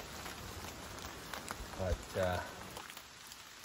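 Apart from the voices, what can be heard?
rain falling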